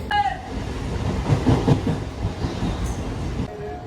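A near-empty Titlagarh Ispat Express train rolls steadily along the rails from Howrah towards Ghatshila with a rumbling, rattling clatter, heard from inside a carriage.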